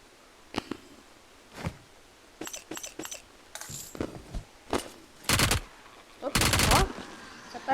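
Scattered gunshots from a video game's zombie mode, single cracks and short rapid bursts at irregular intervals, fairly close, over a quiet background.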